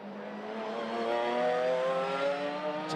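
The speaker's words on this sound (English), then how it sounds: "Just listen to Paul Bryden's car there. That sounds stunning" A race car engine at a saloon and sports car championship race in June 2021, racing among MX-5s, gives a loud, continuous, close-up drone whose pitch climbs steadily as it accelerates, with no speech.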